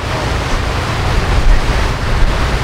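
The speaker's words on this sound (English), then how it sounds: "you may notice that small little waterfall. Well, that's the Lower Chapel Falls." Surf washing onto a beach near Lower Chapel Falls, a small waterfall, forms a steady, loud broadband roar with gentle swells and no voices.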